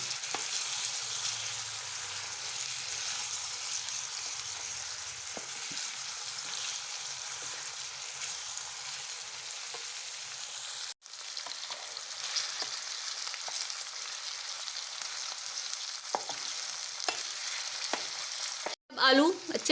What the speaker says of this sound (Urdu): ان آلوؤں کو بھی ہم گھی میں اچھے سے فرائی کر لیں گے۔